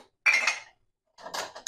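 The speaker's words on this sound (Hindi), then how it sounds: "फोल्ड करके बर्तनों को एडजस्ट कर सकते हैं यहाँ पे" Dishes and cutlery clink and rattle as they are arranged in the rack of a Dawlance DDW 1485 G dishwasher, two short close bursts of clattering separated by a brief pause.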